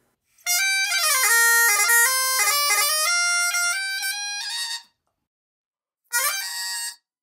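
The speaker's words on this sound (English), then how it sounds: "stick it in here, and give this thing a wee blast" Highland bagpipes from Ronnie Hein, fitted with easy reeds, sounding a loud piping melody with shifting notes for about four seconds, then a short silence and a second brief burst of the pipes.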